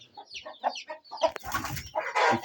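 Chickens clucking close by, a quick run of short clucks followed by louder, denser squawking calls.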